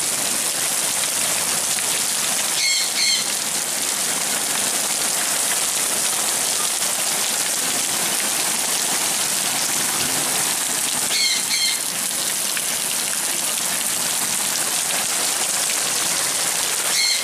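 Heavy rain pours down continuously, a dense, even hiss of drops hitting surfaces that stays loud and unbroken throughout, with a couple of faint bird chirps briefly above it.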